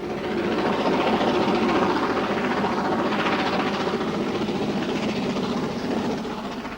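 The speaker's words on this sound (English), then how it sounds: "we are in time to see a fitted freight crossing the Welland Valley on the imposing Haringworth Viaduct" A fitted freight train crossing the Haringworth Viaduct over the Welland Valley, a steady loud rumble of wheels and wagons rolling past continuously, easing slightly at the end.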